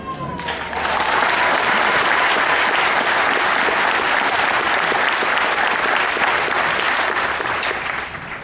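Sustained, dense applause from a crowd at an army basic training graduation ceremony for soldiers and civilians, rising quickly and holding loud and steady throughout.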